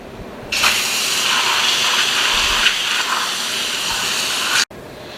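Cold running water gushes steadily onto smoked bacon sausages, a continuous hissing spray that starts abruptly, holds for several seconds and cuts off near the end.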